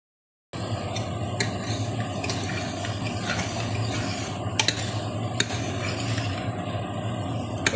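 Steady sizzling and hissing of tempering spices frying in hot oil for a Manchurian gravy, continuous and close, with occasional sharp clinks of a utensil against the pan.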